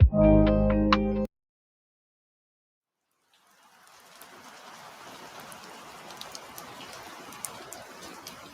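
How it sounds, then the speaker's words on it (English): A web app plays soft, steady rainfall with scattered droplet ticks that fades in after a short burst of music and a stretch of silence. "plays rain sounds when you're relaxing"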